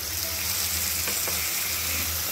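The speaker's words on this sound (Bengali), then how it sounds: "কষানো আলুর মধ্যে দিয়ে দিচ্ছি মিক্সির বাটিটা ধুয়ে খুব সামান্য একটু জল" Potatoes cooking with masala paste in a pan sizzle and fry steadily after a little water is added, a loud continuous hiss with faint stirring, no voice.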